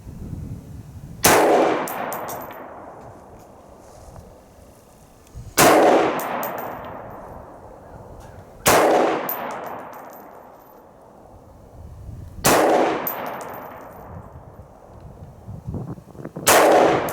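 Five loud, evenly spaced rifle shots from a .224 Valkyrie rifle at a shop build test, each a sharp crack followed by a long decaying ring, with short quiet gaps between them.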